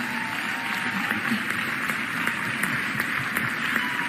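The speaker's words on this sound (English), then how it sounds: "give her a round of applause" An audience applauds a city official during a mayor's State of the City address. The steady, moderately loud clapping fills the hall with no clear talk.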